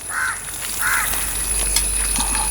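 Crows caw outdoors in a farmyard garden, two clear nearby caws early on followed by fainter calls, with steady background noise and no talking.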